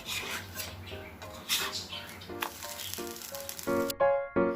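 Cassava pancake being loosened and turned over in a pan, with close scraping and rubbing of a spatula against the metal and a few clattering knocks toward the end.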